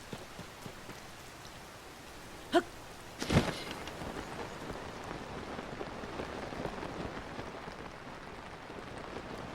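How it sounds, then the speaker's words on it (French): Rain falls in the video game Zelda: Tears of the Kingdom, a soft, even patter that holds steady throughout, with a couple of sharper drips or taps near the start. "Et il pleut, ça ne m'arrange pas."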